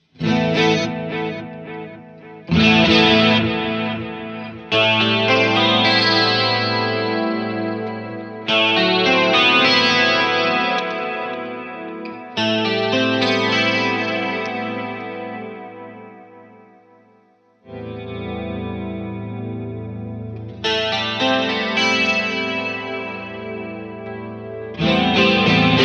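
A Danelectro DC59 electric guitar on its neck pickup plays through chorus and distortion effects, with loud sustained strummed chords that swell and fade in several long phrases and a brief dip near the middle.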